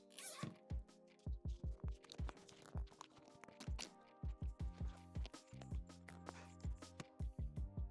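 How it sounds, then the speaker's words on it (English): Massive $2 Harbor Freight zip ties are cinched tight on an Airlift helper bag install on a BMW X5, giving rapid close ratcheting clicks in quick uneven bursts with brief pauses between pulls. "You wanna use these massive zip ties"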